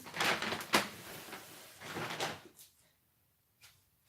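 A drawer slides open with two short rumbling scrapes close by in a quiet hobby workshop, followed by a faint knock.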